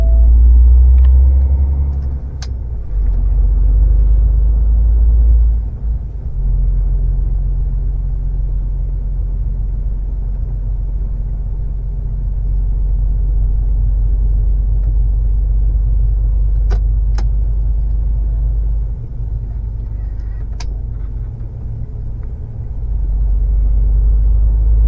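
A delivery truck's engine rumbling while driving, a loud, deep, continuous drone heard from inside the cab, with a few faint clicks and rattles over it.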